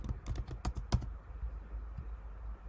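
A burst of close, crisp computer keyboard keystrokes comes first, then the typing thins out to an occasional isolated tap over quiet room tone.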